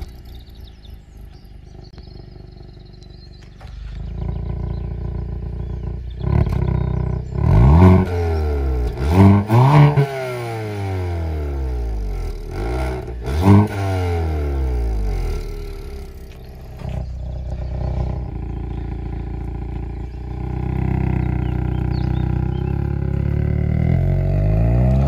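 A 2022 Hyundai Kona N with 280 hp pulls away and accelerates hard, its engine rising and falling through several gears in loud rev sweeps, then settling into a strong steady cruise drone.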